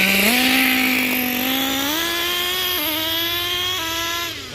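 A Kyosho USA-1 nitro RC truck with a stripped transmission gear runs close by, its high, buzzy engine whine rising and dipping in stepped pitch changes before fading slightly at the end.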